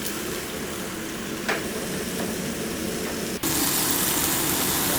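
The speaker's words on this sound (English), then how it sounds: "Ooh, that sizzle." Chicken breast sizzles loudly in a hot skillet, a dense, steady crackling hiss close to the mic, with a brief clatter partway through.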